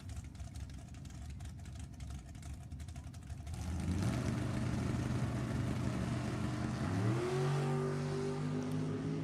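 Two drag race cars at a Halloween drag event launch off the line together, their engines surging from a steady rumble into a loud, rising roar, with a distinct upshift near the end, loud and close.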